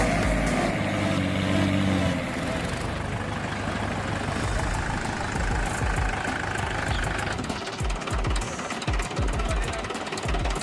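A heavy 500-horsepower turbo Mahindra tractor engine runs steadily and loudly, its diesel knock and rumble continuous throughout.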